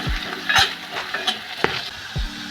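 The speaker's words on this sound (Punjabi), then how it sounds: "ਹੁਣ ਅਸੀਂ ਇਹਦੇ ਵਿੱਚ ਪਿਆਜ਼ ਪਾ ਦਾਂਗੇ ਪਿਆਜ਼ ਨੂੰ ਵੀ ਅਸੀਂ ਚੰਗੀ ਤਰ੍ਹਾਂ ਭੁੰਨ ਲਵਾਂਗੇ" Chopped onions sizzle in a hot pan for a moth dal with fenugreek tempering, with a steady frying hiss broken by several clanking stirs of a spoon against the pan.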